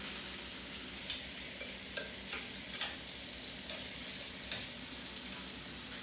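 Shrimp sizzle steadily in a hot pan alone, with several sharp clinks and scrapes from a utensil flipping and stirring them at irregular intervals over the constant frying hiss.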